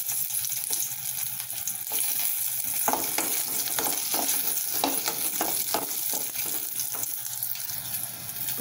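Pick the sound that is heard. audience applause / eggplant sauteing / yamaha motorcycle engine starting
eggplant sauteing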